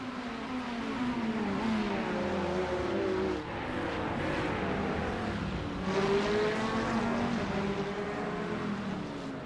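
Race cars in a sim racing league event come down the final stretch of the first lap, their engines droning steadily with rising and falling pitch as they accelerate, heard close and continuous with no talk.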